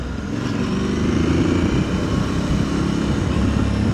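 On a twisty mountain road in Gila National Forest, a steady loud motor drone carries throughout, with oncoming vehicles rumbling past at close range and no voices.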